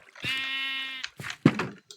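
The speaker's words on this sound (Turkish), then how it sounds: "Şu koyunları bir şuraya yerleştireyim." A sheep in the video game Minecraft gives one long, wavering bleat, loud and close, followed by a few short scuffling sounds and a sharper thump.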